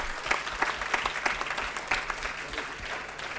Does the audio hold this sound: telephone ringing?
no